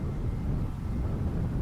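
A jet airplane takes off from an airfield, a steady, distant low roar and rumble that holds at an even level throughout, with no voices.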